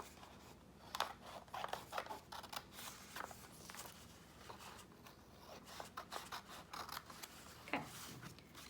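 Scissors cut the edges of old calendar paper: quiet, close, irregular snips and rustles coming in small clusters with brief pauses between them.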